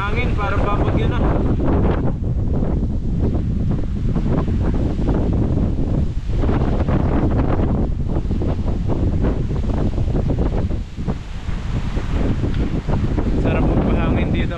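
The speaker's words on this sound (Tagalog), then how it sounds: "Lakas ng hangin, parang babagyo na." Strong gusty wind, as before a storm, buffets the microphone with loud roaring rumble, rising and falling in bursts; a voice speaks briefly in Filipino under it.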